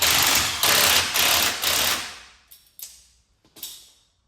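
Ratchet tightening a 16mm bolt on the rear shock absorber of a Vauxhall Vivaro van, about five quick ratcheting bursts close up followed by a few short, fainter clicks.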